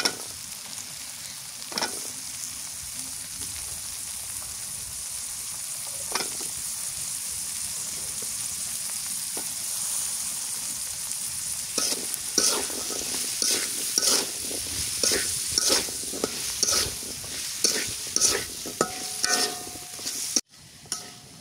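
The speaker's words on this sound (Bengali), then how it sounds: "আগে আলুটা দিয়ে একটু কষাই" Potatoes sautéed in a pan for a Bengali Malabar spinach and dried fish curry, a continuous frying hiss that turns into a run of rhythmic scraping stirs and clinks of a spatula in the latter half, near and moderately loud.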